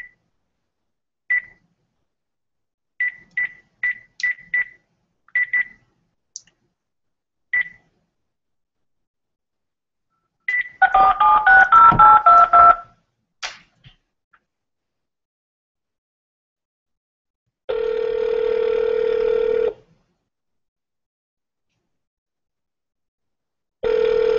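Telephone keypad tones beeping in short bursts as a number is dialed, followed by a ringing burst and a longer steady tone, each separated by silence, with no talking.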